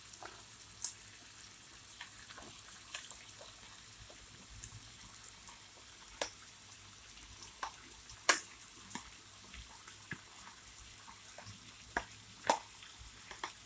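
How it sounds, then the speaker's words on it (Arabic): Onions with garlic cloves frying in a pan for a stewed beef-and-onion dish: a faint, steady crackle with scattered sharp ticks and occasional clinks, heard alone at low level. "بعد ما فص الثوم اتحمر معايا هننزل بنص كمية البصل اللي عندنا"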